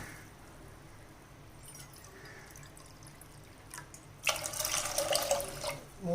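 Water runs from a tap into a cup for measuring water for cooking lentils, starting suddenly after quiet kitchen sounds and splashing steadily, fairly close.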